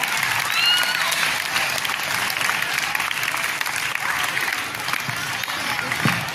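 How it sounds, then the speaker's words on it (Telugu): Loud, sustained applause from a school crowd at a Republic Day celebration as prize winners are announced, a dense steady clatter of many hands filling the whole stretch without a break. "గట్టిగా చప్పట్లు."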